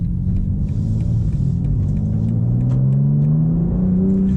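A BMW M4 CSL's turbocharged inline-six accelerates hard. The engine note climbs steadily in pitch as it pulls, loud and close, with a continuous rumbling drone and no voices.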